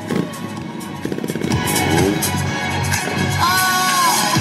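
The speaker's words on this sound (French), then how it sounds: "Il faut l'aider Alex pour faire monter la moto." A trial motorcycle engine revs in bursts during an urban trial event, rising and falling in pitch, loud and close, with brief clatter and faint shouts in the background.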